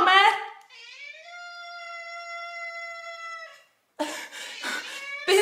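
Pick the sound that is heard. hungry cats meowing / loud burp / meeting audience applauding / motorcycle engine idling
hungry cats meowing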